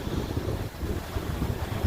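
Steady wind buffets the microphone, a continuous low rumbling roar with gusty surges and no other sounds.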